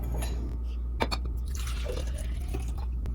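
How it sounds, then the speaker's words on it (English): Water poured into a cup for a cloud-in-a-cup experiment, with soft drips, trickles and splashes over a low steady hum, close and fairly quiet, no voices. "First, we need to pour in the water."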